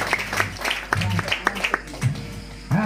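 Congregation applauding Jesus Christ during a Christian sermon in a community gathering, a brief burst of group clapping under and between a preacher's talk, moderately loud and reverberant.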